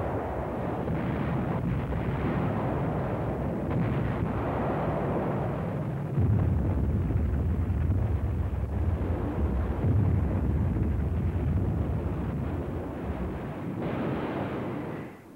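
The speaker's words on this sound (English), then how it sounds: "Once its rockets were fired, the vulnerable rocket launchers quickly left the area." WWII rocket launchers firing salvos of rockets during the battle of Iwo Jima, a continuous loud roaring rush with rumbling surges that swell and fade, constant throughout.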